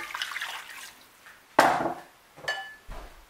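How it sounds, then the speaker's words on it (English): Water is poured into a cooking pot holding meat, cow skin and smoked fish, with a sharp splash followed by a couple of shorter pours and clinks of the pot, close by with no talk. "Add some water"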